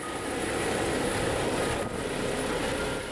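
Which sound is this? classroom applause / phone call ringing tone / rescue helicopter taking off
rescue helicopter taking off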